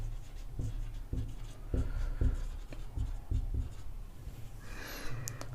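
Writing on a board during an English grammar lesson on tenses, with a regular series of firm, close strokes and dull taps and no talk.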